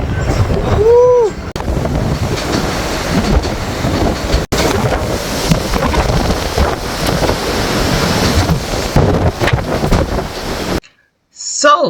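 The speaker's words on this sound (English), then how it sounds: "It is windy." Strong wind at sea roars and buffets the microphone on a cruise ship deck in rough seas, with rushing, surf-like noise, briefly joined by a voice near the start before cutting off abruptly.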